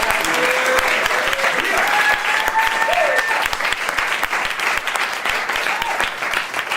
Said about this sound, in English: give yourselves a round of applause for being so happy